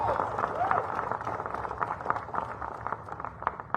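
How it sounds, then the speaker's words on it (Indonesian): Applause from the audience at a press conference held by AHY, an even patter of clapping heard at moderate distance with crowd murmur underneath. "Sekali lagi tepuk tangan untuk media dan teman-teman wartawan."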